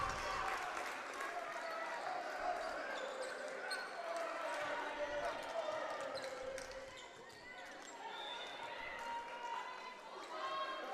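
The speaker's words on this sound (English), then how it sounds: "And a big kill there by Katie Kramer. And you can hear the crowd go" Volleyball crowd at a college match cheering after a kill, a steady roar of voices with shouts and claps filling the gym, moderately distant, with commentary talk over it.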